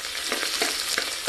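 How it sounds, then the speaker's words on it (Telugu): Spices stirred as they fry in hot oil for a chicken curry, a steady loud sizzle with several scraping stirs of the spoon, close up, no voices. "ఇలా కలపాలి."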